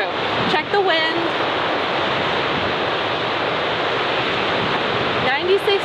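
Wind blowing across an open golf course, a steady loud roaring rush buffeting the microphone throughout, with brief voices at the start and end.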